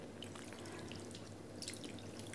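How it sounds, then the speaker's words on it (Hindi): Water trickling and dripping into a pot of thick chickpea curry as a bowlful is poured in, a faint, continuous liquid splashing sound with scattered drips and no voices. "अब मैं इसमें एक कटोरी पानी डालूंगी"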